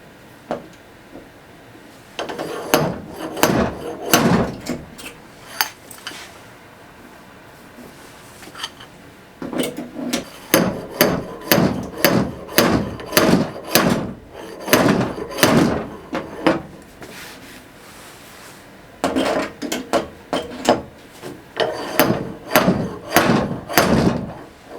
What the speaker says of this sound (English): let's go ahead and use this puller and see if we can go ahead and get rid of this dent